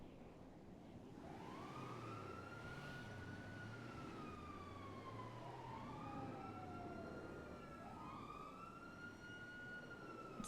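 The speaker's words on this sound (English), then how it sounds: "I mean, sirens aren't super loud." Police sirens in the video game GTA V wail in overlapping rising and falling sweeps, continuous and fairly loud, with several sirens layered at once over a steady background.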